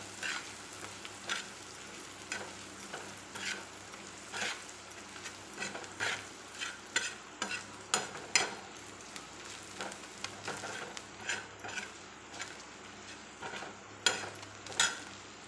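Red chilli powder and cumin powder being stirred into a dish in a pan, a steady sizzle of frying under repeated scraping clinks of a spoon against the metal, close and fairly quiet, with no voices.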